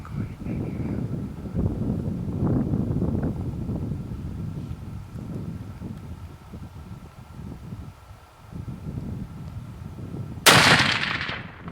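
A single loud, sharp rifle shot cracks near the end of a backcountry Idaho mule deer hunt, following several seconds of wind buffeting and quiet outdoor talk.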